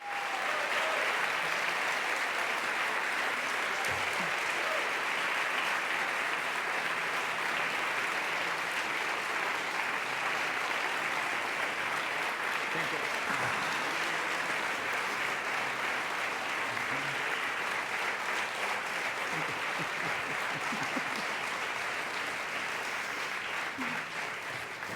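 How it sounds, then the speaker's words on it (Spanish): A large audience gives sustained applause at a literary debate, steady dense clapping that holds loud for a long stretch and fades slightly at the end. "les pido un aplauso"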